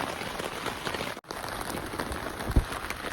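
Steady rain falls in the middle of the night at a cave campsite, a dense, close hiss of drops on surfaces with one sharper patter partway through, and no voices.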